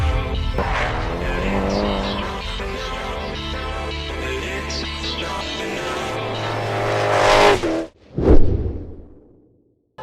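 A drift car of over 1000 horsepower roars past at a race circuit at Croix-en-Ternois, engine screaming with squealing tires for several seconds, then a final sharp whoosh as it passes and fades away.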